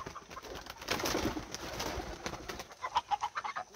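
Pigeons in a loft flutter their wings in a quick run of rhythmic flaps near the end, over soft cooing and bird calls.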